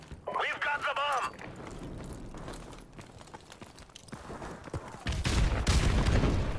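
A grenade goes off in a multiplayer shooter match amid bursts of game gunfire and effects, with a heavy low boom near the end; players talk over parts of it.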